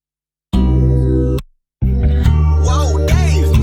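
A UK soul grime type beat plays loud with heavy bass, stops dead for a moment, then returns with layered melodic samples and a pitched vocal-like line over the driving low end.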